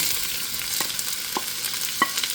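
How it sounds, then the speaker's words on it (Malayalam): Sliced onion frying in a pan with garlic and ginger gives a steady close sizzle, with a few sharp stirring scrapes and clicks scattered through. "അപ്പോൾ ഞാൻ ഈ സവാള മുഴുവൻ ഇതിലോട്ട് ഇടാൻ പോകട്ടോ"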